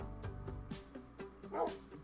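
A dog character in a Minecraft mod gives a few short, repeated barks on command, evenly spaced and close, with one louder yip near the end.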